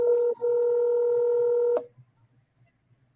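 A telephone dialing tone sounds loud and close, holding steady with one brief break, then cuts off into near silence.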